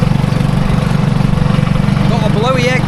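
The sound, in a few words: lawn mower engine with a blowing exhaust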